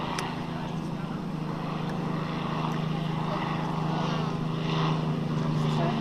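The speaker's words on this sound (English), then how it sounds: "Merlin engine, there it goes." A vintage warbird with a Merlin engine drones steadily as it comes in to land, a loud continuous engine hum with a commentator talking over it.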